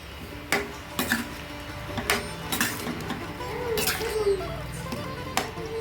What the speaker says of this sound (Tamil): சேர்த்துட்டு எல்லாத்தையும் நல்லா ஒரு கிளறி கிளறி விட்டுருவோம்